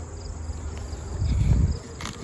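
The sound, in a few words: honey bees in a hive, new bees emerging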